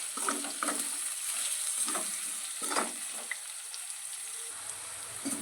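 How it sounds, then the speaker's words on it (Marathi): Chopped onions frying in a pan as they are stirred, a soft continuous sizzle with intermittent scraping strokes, close and fairly quiet, no speech. "कांदा इथं छान असा भाजला आहे"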